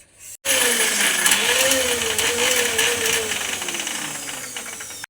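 An electric kitchen mixer grinds ginger and garlic into paste for a shellfish roast. It kicks in after a brief silence and runs as a loud, steady whirring grind with a wavering motor whine for several seconds.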